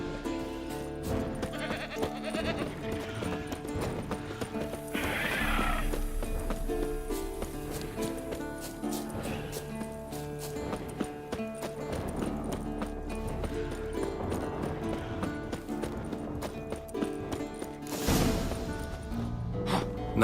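A horse in The Witcher video game, with clip-clopping hooves and a neigh over layered game music and effects, moderately loud throughout.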